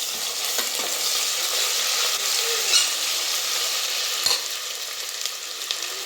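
Masala spices and ginger garlic paste frying in a pan for a mushroom and mixed vegetable sambar, a steady close sizzle with a few soft stirring scrapes and no talking.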